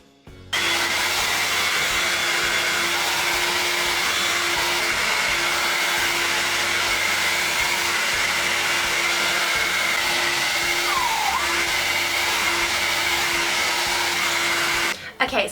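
A hair dryer blows steadily while drying long hair, a loud, constant close whoosh and motor whine that starts abruptly and runs unbroken for about fourteen seconds before cutting off.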